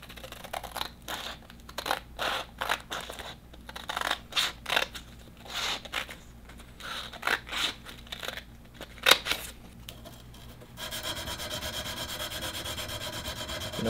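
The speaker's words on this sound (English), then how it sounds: "I need to do all my 150 grit sanding with 3 sheets of this on the entire katana" A Damascus steel katana blade is sanded by hand with 150 grit sandpaper in a long run of rhythmic, scratchy back-and-forth strokes, close and steady, before the strokes stop and a constant hum takes over.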